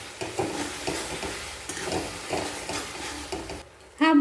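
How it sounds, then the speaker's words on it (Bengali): A chicken manchurian sauce with garam masala and mayonnaise is stirred in a sizzling pan, the spoon scraping in repeated strokes over a steady frying hiss, ending with a brief tonal sound. "নাড়াচাড়া করে নেব"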